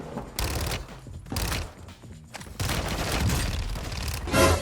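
Bursts of automatic fire from an RPK and a Fennec in a Call of Duty-style shooter, several rapid volleys separated by short pauses, loud and close.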